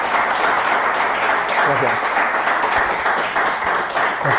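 Audience applause fills a conference hall at the close of a talk and question session, steady dense clapping throughout, with a brief word of thanks spoken over it.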